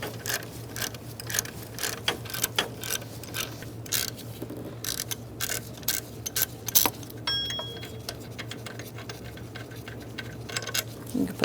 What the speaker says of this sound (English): Using a 13mm short socket, I'm going to loosen up the other bolt